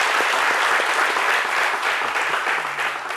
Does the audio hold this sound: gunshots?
no